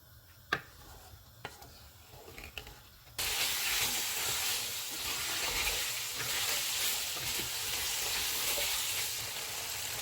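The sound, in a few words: chicken frying in yogurt until oil separates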